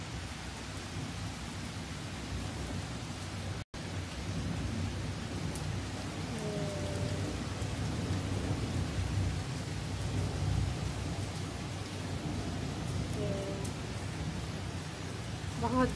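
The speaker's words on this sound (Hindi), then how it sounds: "बहुत ही ज्यादा बारिश हो रहा है। बिजली कड़क रहा है" Steady heavy rain roars throughout during a storm in India, with low rumbling thunder and lightning cracks beneath, and a voice speaks briefly in Hindi over the downpour.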